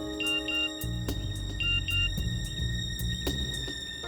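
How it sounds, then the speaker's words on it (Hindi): A mobile phone ringtone plays a repeating electronic melody in short bursts over low, droning background music, fairly loud and close. "फोन बजा।"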